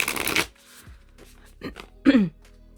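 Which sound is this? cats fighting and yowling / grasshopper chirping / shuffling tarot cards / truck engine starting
shuffling tarot cards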